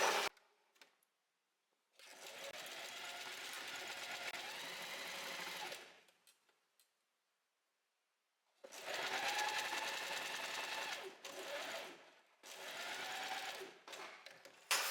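A sewing machine stitching a blouse seam in two long steady runs and a few short bursts, with quiet pauses between, close up and without talk.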